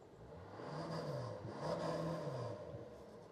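A Porsche Panamera 4S diesel engine revs twice in quick succession, its low droning note swelling up and falling back each time, close by and steady with no talking.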